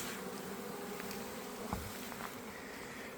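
Honey bees of VSH stock buzz steadily at an apiary, a continuous insect drone with no voices.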